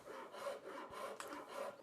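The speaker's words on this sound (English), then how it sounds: "next I'm going to begin carving the profile of the neck" A wooden guitar neck blank being carved to its profile, clamped flat, producing four or five steady, rhythmic rasping strokes, close and fairly quiet, with no talking.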